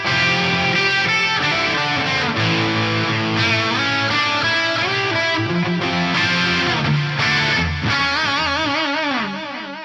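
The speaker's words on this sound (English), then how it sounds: "I'm running it into some dual detune, the dual delay from before, and the gold plate reverb" Distorted electric guitar chords ring out through thick dual detune chorus, dual echoing delay and a lush gold plate reverb wash, played loudly and continuously.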